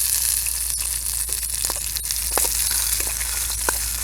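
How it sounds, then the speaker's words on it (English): Sausage sizzling in a pan over a campfire while being stirred, with scattered scrapes and crackles above a steady low hum and hiss, no talking. "we'll go ahead and give the sausage a stir"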